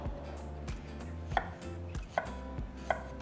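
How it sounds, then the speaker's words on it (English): Knife finely chopping fresh strawberries on a cutting board, a series of soft rhythmic cuts with a few sharper taps against the board, close and alone. "So remove the stem and now finely chop them."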